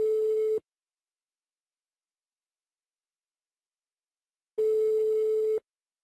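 Brazilian telephone ringback tone on an outgoing prank call: two steady, loud buzzing tone bursts, a short one and then a longer one, separated by about four seconds of silence, with no voices.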